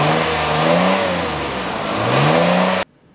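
A luxury sports car engine revs loudly and close, its pitch rising and falling through two throttle sweeps before the sound cuts off abruptly.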